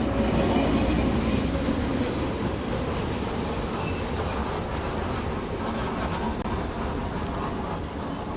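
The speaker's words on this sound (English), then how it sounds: "The rear carriage is still pushing the train!" A runaway train in the video game Ground Zero rolls steadily on its rails, a loud, continuous rumble of wheels and carriages with high metallic squeal running through the whole stretch and no voices over it.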